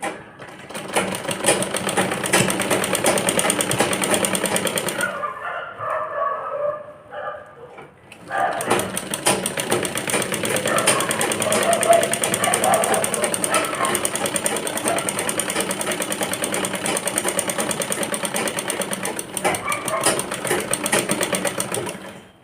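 A sewing machine stitches along skirt fabric in a long, fast, even mechanical whirring run, pausing briefly for a couple of seconds before resuming at the same steady pace, close and loud.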